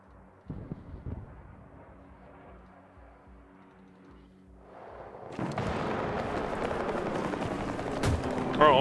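Battlefield 2042 gunfire: a few sharp shots early, then a dense, loud stretch of rapid automatic fire and explosions in the second half, with a voice briefly present.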